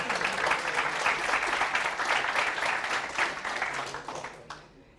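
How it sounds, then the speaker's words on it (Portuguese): Audience applause fills a conference talk hall on responsive web design, a dense steady wash of many hands clapping that holds strong before thinning and fading out near the end. "Palmas para o Tino Gomes aí."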